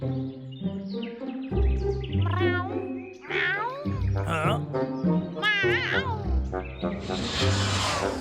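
A cartoon cat meows repeatedly in bright, rising and falling cries, close and loud, with a child-like voice talking around and between the meows.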